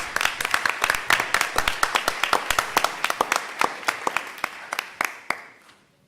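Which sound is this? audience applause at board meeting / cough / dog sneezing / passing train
audience applause at board meeting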